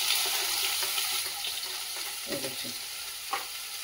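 Chili, garlic and onion fry in hot oil with asafoetida for a potato bhaji, giving a steady bright sizzle throughout with a few stirring scrapes near the end, close and fairly loud.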